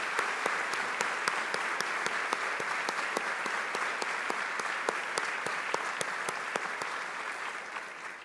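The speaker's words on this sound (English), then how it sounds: "I'd like to give them a round of applause for a moment here" Steady audience applause honoring veterans at a vehicle-gifting ceremony, a dense wash of many hands clapping continuously at even loudness, with sharp individual claps standing out, tapering slightly toward the end.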